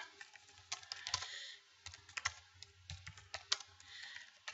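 Keys tapped on a computer keyboard while typing text, an irregular run of close, light clicks and brief bursts, with no one talking.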